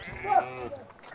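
A Gaddi sheep, one of a mountain herder's flock, gives a single wavering bleat close by, with people talking over and around it.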